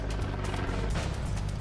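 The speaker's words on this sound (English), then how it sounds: "ICE, U.S. Immigration and Customs Enforcement, lends a helicopter for aerial surveillance." A helicopter lent by U.S. Immigration and Customs Enforcement flies overhead for aerial surveillance, its steady rotor chop and engine drone continuous and fairly loud throughout.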